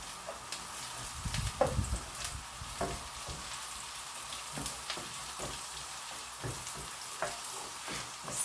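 Onions fry in a pan for tinola, a steady close sizzle with scattered crackles and occasional stirring scrapes, no talk over it.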